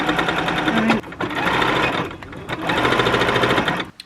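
A sewing machine stitching shortened straps back onto a fairy outfit, running loud and close in rapid bursts, with brief pauses between runs.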